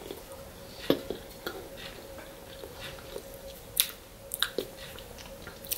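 Almond flour drop biscuits, gluten free and sweetened with honey, are chewed close to the mic, with soft irregular crunchy bites and mouth sounds over a quiet background and no talking.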